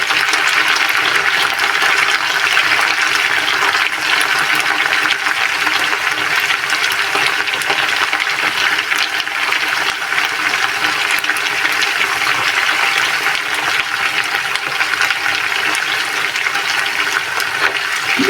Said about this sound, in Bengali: দই দিয়ে আরও 1 মিনিটের মতো ভেজে নেব